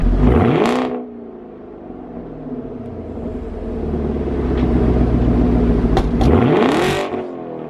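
A 2018 Chevrolet Camaro ZL1 V8, stock from the factory, is revved hard twice, close by. Each rev climbs sharply to a held roar, and the engine rumbles at a steady idle between the two.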